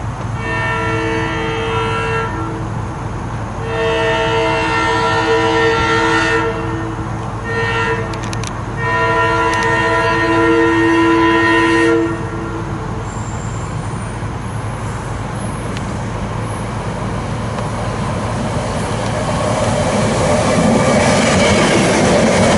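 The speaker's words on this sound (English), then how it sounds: "This train will continue to West Trenton, stop in the terminal yard there." A passenger train rolls loudly through Woodbourne Station, its horn sounding in several long blasts over the steady roar and rumble of wheels on rail before the horn falls quiet.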